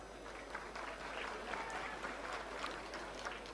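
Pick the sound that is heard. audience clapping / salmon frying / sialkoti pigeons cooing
audience clapping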